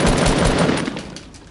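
Rapid gunfire from a weapon in the Fortnite Battle Royale video game, a dense, loud burst of shots that tapers off toward the end, with no talk over it.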